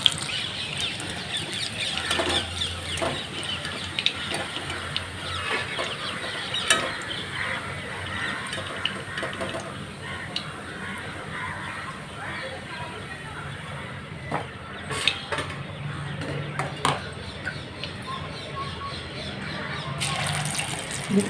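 Chicken pakoda pieces deep frying in hot oil as they are turned on both sides, a steady close hiss and crackle of bubbling oil running throughout, with occasional sharper spatters and clinks.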